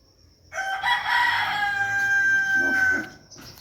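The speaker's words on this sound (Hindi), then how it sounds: "देखिए हमारा मुर्गा किधर खड़ा हुआ है" A rooster crows once, loud and close, in a long drawn-out call lasting about two and a half seconds, with faint background noise around it.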